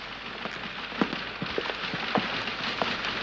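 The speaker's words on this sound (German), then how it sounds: "Hat wieder zu regnen angefangen. Heftig, aber es regnet." Heavy rain pours steadily, a dense hiss of drops with scattered louder splashes and patters close by, continuing without pause.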